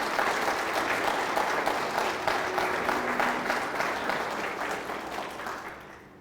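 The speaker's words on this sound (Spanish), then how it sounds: "Sí, aplauda al Señor, si lo va a aplaudir." A church congregation applauds together in dense, steady clapping that fills the space and slowly fades toward the end, with no talking over it.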